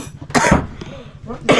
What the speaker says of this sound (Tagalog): May ubo tayo mga inday